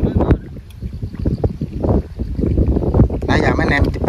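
Strong wind buffeting a small boat out on a river in the Mekong Delta, a steady roar and rumble across the whole stretch with people talking over it.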